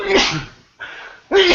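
Two sharp sneezes close to the mic, separated by a breathy inhale, each a sudden loud burst.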